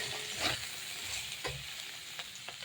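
Vegetables stirred in a pan while cooking shukto with dal bori, a soft continuous sizzle broken by a few scraping knocks of the spoon against the pan.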